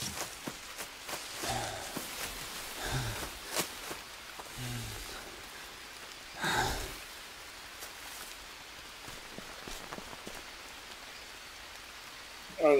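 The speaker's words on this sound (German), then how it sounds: "Obwohl es regnet." Steady rainfall in the jungle survival game Green Hell, a soft continuous patter of drops with occasional louder splashes and footsteps, while someone talks quietly over it.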